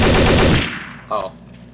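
Gunfire in Garry's Mod Trouble in Terrorist Town rattles loud and close in a rapid burst, then fades out, followed by one short sharp report.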